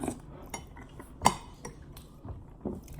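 A spoon chops cornbread in a glass of buttermilk, giving faint, scattered clinks and taps against the glass with one sharper knock.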